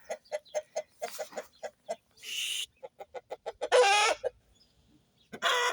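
A blue hen clucks in a quick series of short, close, moderately loud clucks, with a few louder squawking bursts breaking in between and no talk.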